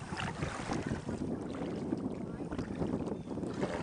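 A kayak drifts down a wide stretch of the Passaic River, with a steady, continuous wash of moving water and wind rumble throughout and no distinct strokes standing out.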